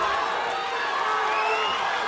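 A Muay Thai crowd roars behind Tiffany Van Soest in her rematch fight against Caley Reece, a dense, steady wall of cheering that holds without a break throughout.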